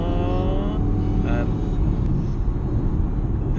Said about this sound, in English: This little 4-cylinder's got some kick.